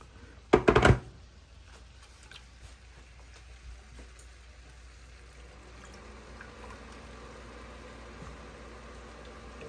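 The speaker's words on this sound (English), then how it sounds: "Some water." Water poured into a pot of ackee and salt cod cooking in coconut milk, with a brief loud splash followed by a quiet, steady simmering hiss.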